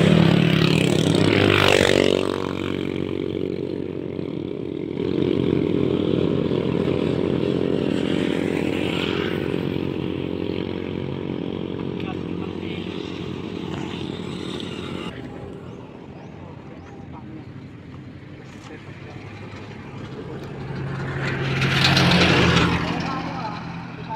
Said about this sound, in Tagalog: Papalipat sila ngayon ng drone.